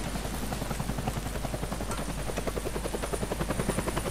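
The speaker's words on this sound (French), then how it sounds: "C'est l'hélicoptère qui poursuit mes amis." Helicopter from the video game Deadlight hovering close, its rotor blades chopping in a fast steady pulse over a constant whine, loud and alone without talk.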